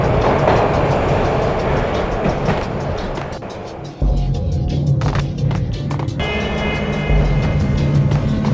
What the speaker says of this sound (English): This was my second train ride of the night.